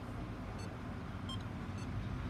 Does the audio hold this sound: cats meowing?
no